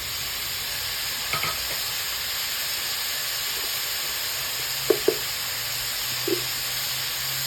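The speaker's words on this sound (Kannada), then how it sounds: "ಹೆಚ್ಚಿಟ್ಟಿರುವಂಥ ಟೊಮೆಟೊ ಹಾಕ್ಕೊಳ್ಳಿ." Tomatoes with turmeric frying in a pan give a steady, close sizzling hiss, with a few soft clicks and stirring taps breaking through near the end.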